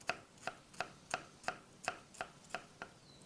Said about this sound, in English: And then you want to just really kind of finely slice them.